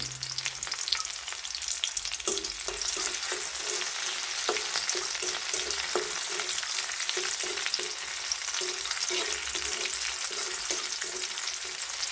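Chopped onions with cinnamon, cardamom and bay leaf fry in oil in a kadai, giving a steady close sizzle throughout, broken by repeated light scraping taps of a spatula stirring the pan.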